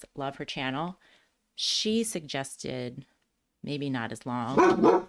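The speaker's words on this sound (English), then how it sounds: "Please excuse my dog." A pet dog barks indoors at home while someone talks over it; the barking is mixed in and partly masked by her steady speech.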